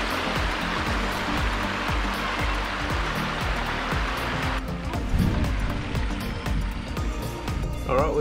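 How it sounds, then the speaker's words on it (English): Steady broadband rush of a waterfall tumbling down a gorge in Karijini National Park, heard close and continuous with some lower rumbling texture throughout. "Look, that's a waterfall."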